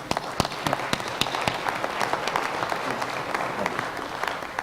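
An audience at a conference session gives the panel a round of applause, dense continuous clapping from many hands that holds steady throughout at moderate loudness.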